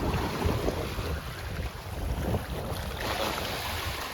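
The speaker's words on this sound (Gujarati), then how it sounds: "દરિયામાં પવન બહુ આવે" Strong wind at sea aboard a fishing boat, a dense continuous roar and rumble of gusts buffeting the microphone with water and waves washing beneath, loud and unbroken, no voices.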